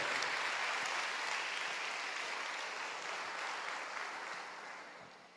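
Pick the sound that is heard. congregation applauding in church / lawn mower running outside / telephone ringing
congregation applauding in church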